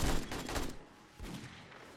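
Turrets fire during horde night in the game 7 Days to Die, a dense rapid burst of gunfire that briefly drops away before a second burst, loud and close without talk.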